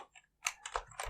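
Quick keystrokes on a computer keyboard, a short irregular run of close, soft clicks with a brief pause between the first taps and the rest.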